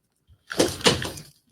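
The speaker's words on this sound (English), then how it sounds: "Close the door, Daisy. Shut the door." A door being shut indoors, a close scraping bang followed by a second knock and a short rattle, with no talk.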